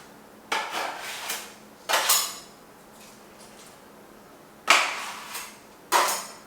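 Drywall mud scooped from a bucket into a metal mud pan with a knife: four sharp scraping clanks in two spaced pairs, each trailing off briefly, with quiet gaps between.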